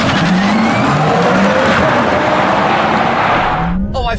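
A Tesla Model S and a Porsche electric car launching hard from standstill, heard from inside: a loud, steady rush of road and wind noise with a faint rising motor whine, cut short by a brief voice at the end.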